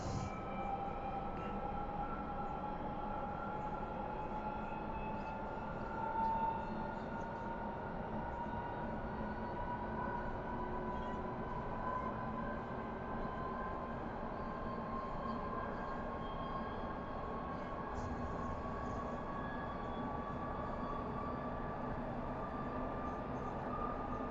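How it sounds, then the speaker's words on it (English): A steady, continuous train rumble from a train simulator video game, using sounds recorded from a real train, with a low drone and faint rising tones, running evenly throughout without pauses or voices. "the sounds on the train were recorded from the real life train"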